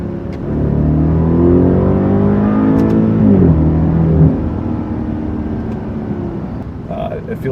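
BMW car engine close up, a steady loud drone that rises in pitch, drops sharply during a downshift, then settles into a lower hum as the car pulls on.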